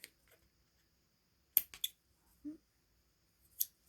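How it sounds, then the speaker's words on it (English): Scissors snip through yarn string while a pom pom is made for a knit hat, giving a few quick, close, crisp cuts separated by quiet pauses, with no talking. "I'm going to cut this string right here."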